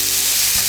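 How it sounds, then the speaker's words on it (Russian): Onion and herbs frying in oil in a pan, a loud, steady bright sizzle throughout, with a brief low knock near the end and no talking. "На сковороду наливаю масло и поджариваю лук с зеленью"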